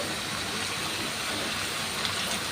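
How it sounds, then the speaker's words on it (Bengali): Chopped onions frying in mustard oil for a red chilli bharta, a loud, continuous broadband hiss and sizzle, steady and unbroken from start to finish. "এরপর দিয়ে দেব সরিষার তেল পেঁয়াজগুলোকে নেড়ে চেড়ে হালকা বাদামি কালার করে ভেজে নেব"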